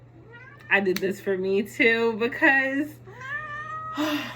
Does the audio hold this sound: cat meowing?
yes